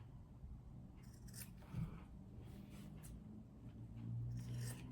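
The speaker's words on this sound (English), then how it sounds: "I'm going to take my pair of scissors and just cut off the tip here, the ends here on all four." Scissors snip thread ends off sewn fabric for a round bag, a few faint quiet cuts and rustles close by in a hushed room.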